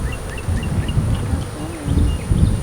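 Bees buzz in an open, active beehive as a steady close hum, while people talk nearby and a few higher insect whines pass by.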